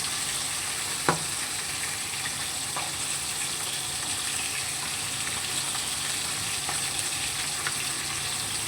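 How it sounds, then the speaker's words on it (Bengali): Pieces of katla fish shallow-frying in oil in a pan give a steady, close sizzle with a faint crackle and a few soft clicks, with no speech. "এখন হালকা করে সব মাছগুলোকে ভেজে নেব।"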